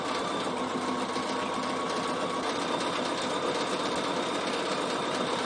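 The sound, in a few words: Bernina sewing machine stitching in the ditch on a binding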